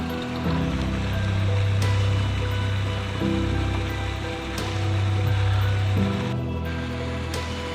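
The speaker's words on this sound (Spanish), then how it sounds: "Debe ser que va agua por ahí" Water flows steadily in a stream near a dam along a countryside trail, a constant close rushing wash with a low droning hum underneath.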